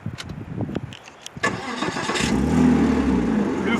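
A Porsche Boxster 987 with a naturally aspirated flat-six cranks over with a few clicks and whirs, then catches and fires into a loud, steady idle close by, without talk.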